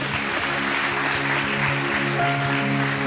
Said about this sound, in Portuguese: aplaudir o Senhor Jesus